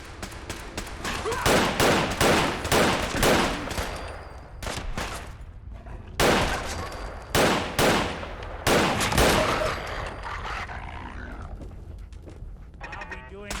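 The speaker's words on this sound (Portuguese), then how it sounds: "Os caras não estavam atirando em mim e do nada vem e atira." Gunfire in the video game Fallout 4 Far Harbor: loud, rapid volleys of shots in dense repeated bursts with brief pauses between, mixed with other game sounds.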